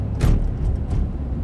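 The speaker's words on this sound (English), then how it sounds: "I'm sorry about the noise. I'm in traffic" Road traffic rumbles around the inside of a car as it sits in traffic, a dense low drone with a brief louder swell of a passing vehicle near the start, steady and fairly close.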